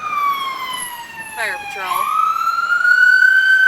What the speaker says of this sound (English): We've got sirens coming.